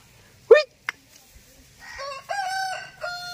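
A rooster among country chickens crows a long, clear cock-a-doodle-doo nearby, preceded by a couple of short sharp clucks and knocks in an otherwise quiet rural yard.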